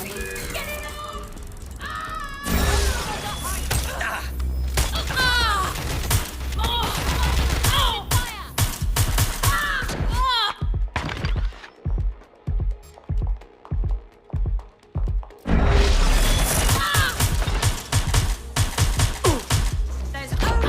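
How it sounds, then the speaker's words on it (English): Gunfire in the video game Watch Dogs Legion comes as rapid bursts of sharp shots, with a choppy run of evenly spaced blasts mid-stretch, mixed with game sound effects and character voices. "Gunfire!"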